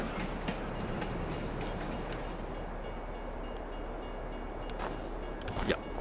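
Rented train pulling into a station in a farming video game, a continuous low rumble with faint rhythmic clatter of wheels and a brief squeal near the end, moderately distant.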